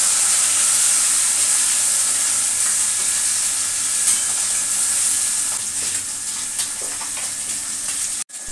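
Onion frying in hot oil for tempering, in a Bengali kitchen preparing a small-fish dish, with a steady, close sizzle and hiss that softens slightly toward the end, broken by a sharp clatter.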